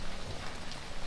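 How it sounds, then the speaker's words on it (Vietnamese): Steady rain pours down outdoors in a rural Mekong Delta garden setting, a dense even hiss of drops on surfaces, moderately loud and continuous with no talk over it. "Mưa xuống."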